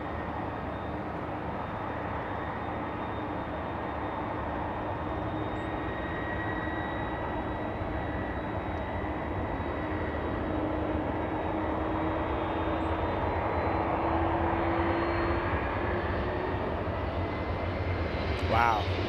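A Southwest airliner takes off at LAX, its engine roar a steady broadband rumble that holds throughout and swells slightly near the end, with a faint voice now and then underneath.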